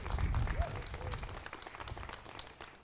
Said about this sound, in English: let's give his National Guard members a big round of applause